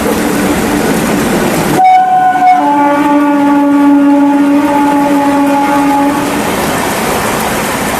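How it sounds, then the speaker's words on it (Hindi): A train rumbles past close by, its loud horn blaring for several seconds over the steady clatter of the rail cars, with no talking. "ये रेल है भाई, रेल भी जा रही"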